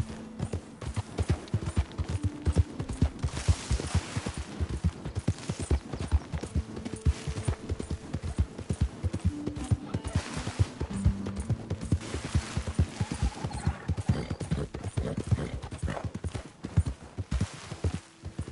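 Horse hooves gallop in Red Dead Redemption 2, a steady rapid clip-clop of the ride running continuously and loud throughout, with no talk over it.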